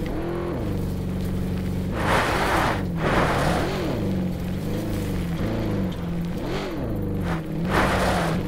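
Vehicle engine in the Call of Duty Blackout video game, a steady close motor drone with repeated rising and falling revs as it drives past.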